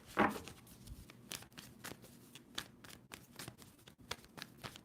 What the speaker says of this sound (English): Two more shuffles for Sagittarius.